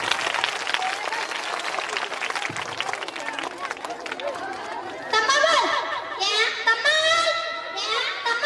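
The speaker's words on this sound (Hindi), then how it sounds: "आप तालियां बजा के उनकी हौसला अफजाई करें" An audience at a drama performance claps in a dense, moderate round, with chatter and children's voices mixed in, giving way to clearer voices talking toward the end.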